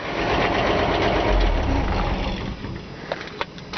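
A 1957 Chevy 3100 pickup truck engine idling loudly and close, with a dense rumbling exhaust note that drops away as it shuts off, leaving a few faint clicks and knocks in the quiet afterward.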